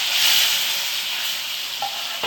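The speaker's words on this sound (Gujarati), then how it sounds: "આ લસણ નાખું છું. આનો વઘાર જ કરું છું." Garlic sizzles in hot oil for a tempering with mustard seeds, cumin and asafoetida, making a steady, bright hiss close by with a couple of sharp clicks near the end.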